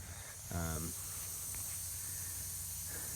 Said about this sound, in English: here's that first spray we did with that MP rotator